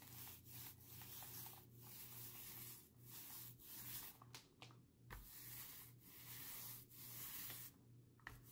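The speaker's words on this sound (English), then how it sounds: "A nice even amount on the paint roller" A paint roller spreads Sherwin-Williams paint-and-primer across a shiplap wall, making repeated soft, rhythmic rubbing strokes at close range, each pass a brief swish separated by short pauses, with a low steady hum underneath and no talking.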